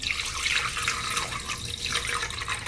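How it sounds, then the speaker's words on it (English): Water pours steadily from a tap into a plastic shaker bottle, a continuous splashing rush that holds at close range for the whole stretch with no voices over it. "All right, so let's add a bit of water."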